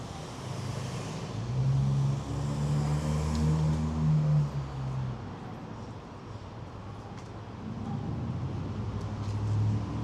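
A car drives by on a street in Hollywood, Los Angeles, its engine rumble swelling and then fading over several seconds amid ongoing road traffic noise.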